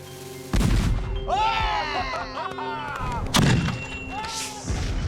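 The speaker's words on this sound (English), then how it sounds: "The ball and chain shot out of the cannon okay" A loud cannon blast booms up close as it fires a ball and chain, followed by whistling, squealing noises and another heavy thump amid outdoor commotion.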